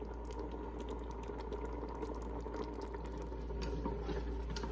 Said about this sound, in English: this is boiling away right now, or simmering away right now